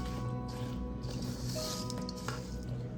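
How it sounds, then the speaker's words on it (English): Sticky granola mixture being stirred and scraped in a pot with a spoon, giving close, continuous wet squishing and sticky smacking sounds at a low, even level. "So scrape out all of the mixture from the pot and then just stir"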